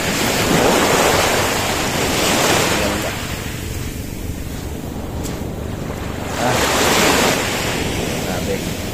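Sea waves rolling onto a beach in Ilocos Norte, with broad surges of surf rising and falling in two strong swells under steady wind noise, fairly loud and near, with no talking.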